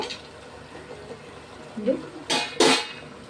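A cooking pot being covered with its lid over a finished curry, giving a short clatter of metal followed by two sharp, close clanks of the lid settling.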